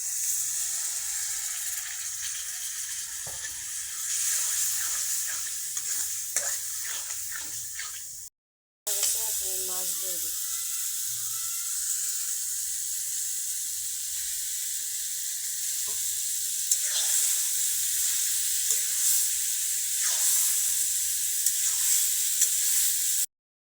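Water hits a frying tilapia masala of turmeric, chili, cumin and salt, raising a loud steady hiss that carries on with intermittent spoon scrapes and clinks and a brief pause midway.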